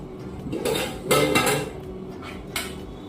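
Metal serving spoons clink and scrape against plates and pots while rice is served for a Bengali home lunch, with a few louder clatters spread across the moment and no talking.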